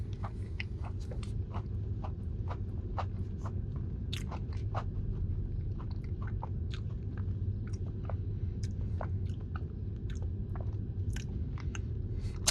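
Close, steady crunching and biting on a Crumbl Aloha Pie cookie with a cookie crust, sharp crunches over continuous chewing for several seconds, no talking.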